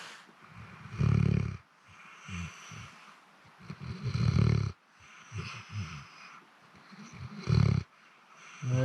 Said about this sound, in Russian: Храпит тут, как трактор.